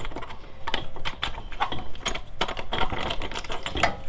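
Someone loosens a rear brake caliper on a Mini Cooper during a brake pad change, making a close run of irregular metallic clicks, ratcheting and tool knocks with no talking.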